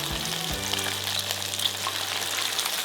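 Marinated chicken for Filipino lemon chicken frying in oil in a pan, a steady close sizzle and crackle throughout with no talk.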